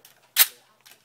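A Magnum Research Desert Eagle .50AE handgun's slide locking back, one sharp close metallic clack followed by a couple of faint clicks.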